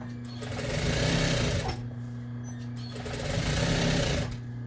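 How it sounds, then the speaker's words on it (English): Sewing machine stitching stretched elastic to gather the waist of a Lady Liberty costume, two sustained runs of fast, even motor hum and needle chatter separated by a brief pause, close and steady. "I'm going to hold back here so it doesn't slip, and I'm going to sew"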